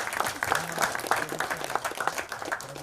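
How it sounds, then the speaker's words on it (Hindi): Applause from the audience at a film trailer launch event in India, with clapping spread across a crowd and a voice speaking over it throughout. "सो पूरी स्टार कास्ट और पूरी टीम और डायरेक्टर साहब, प्रोड्यूसर सर के लिए जोरदार तालियां हो जाए"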